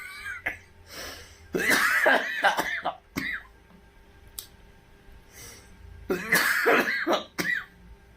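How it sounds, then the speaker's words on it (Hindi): A person coughs and clears their throat in rough bursts, with quiet gaps between them. It sounds close and loud, and no words are spoken. "और खांसी भी हो रही मालूम है"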